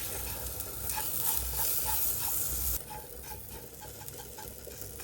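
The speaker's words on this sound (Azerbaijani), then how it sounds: "Gördüyünüz kimi xəmir uca qızarır, yağımızı əlavə edib biraz da qızardırıq" Dough frying in oil in a home pan for Dubai chocolate gives a steady, fairly quiet sizzle with faint stirring scrapes, dropping a little softer partway through.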